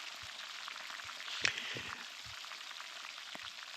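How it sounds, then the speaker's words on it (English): A large Maikoiko fish, caught spearfishing, frying in a pan: a steady, faint sizzle with scattered light crackles and pops and one brief sharp spatter, continuous throughout with no talking. "it's going to take a while to fry up this big Maikoiko"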